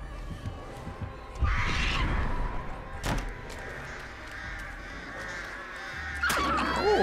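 Crows caw in a video game, with a few harsh calls spaced out over the stretch, close and fairly loud against a low steady background rumble.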